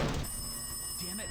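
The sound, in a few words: telephone ringing in a video game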